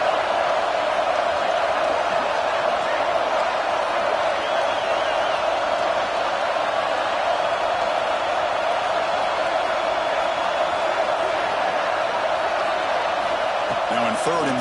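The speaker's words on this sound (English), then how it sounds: "this crowd is fired up. Listen to this noise here." A dense, continuous roar of a large stadium crowd in a College Football 26 video game, steady and loud throughout, with an announcer-like voice talking over it.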